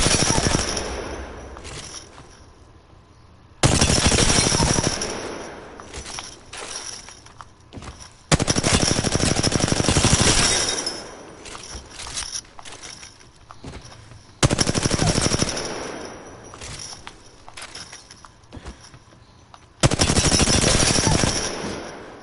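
The 301 rifle fires in the video game Apex Legends in repeated sharp automatic bursts, each lasting a few seconds with short pauses between them, loud and close.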